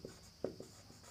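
Writing on a board in a classroom lesson: a few faint, short scratches and taps from the writing tool, quiet and brief against a low room hum.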